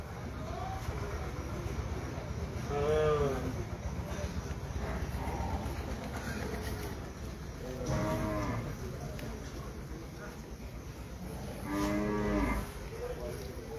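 Cattle at a crowded tri-district cattle fair and market in Chuadanga, Bangladesh, giving three loud drawn-out moos spaced several seconds apart over steady background crowd noise.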